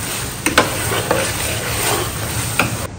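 Instant food fries and is stirred in a pan, a loud continuous sizzle broken by a few sharp scraping clicks of the utensil, close up with no talking.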